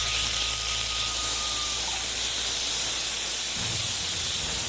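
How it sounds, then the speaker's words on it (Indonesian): Pork fries in sesame oil in a wok with a steady, close, hissing sizzle. A low rumble underneath shifts slightly near the end. "Goreng daging babi terlebih dahulu."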